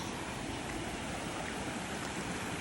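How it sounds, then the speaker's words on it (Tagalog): Fast water in a swollen stream after typhoon rain gives a steady, even rush that fills the whole scene without any talk. "ang lakas ng tubig"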